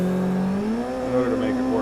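Simulated car drifting through a corner in the racing game Assetto Corsa, engine droning steadily with a rising whine near the end, loud and continuous, with a voice talking over it.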